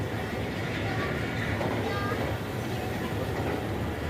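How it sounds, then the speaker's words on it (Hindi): A passenger train pulls out of Rawalpindi railway station on an early morning, giving a steady, fairly close rumble with a soft, continuous rolling clatter throughout. "ट्रेन अपनी मंजिल की तरफ रवाना हो गई है। रावलपिंडी रेलवे स्टेशन छोड़ रही है इस टाइम।"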